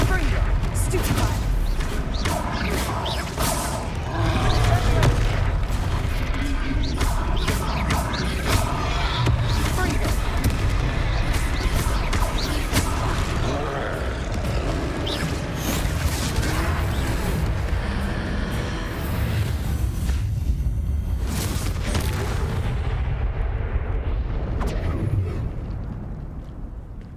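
Spell blasts burst and boom repeatedly while fighting trolls in the video game Hogwarts Legacy, a dense, loud barrage of impacts, with voices calling out between the hits.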